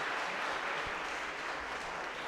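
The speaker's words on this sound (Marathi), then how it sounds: "चला वाजवा बरं टाळ्या जरा जोरात" A lecture audience claps loudly together on request, a dense, even burst of applause filling the hall throughout.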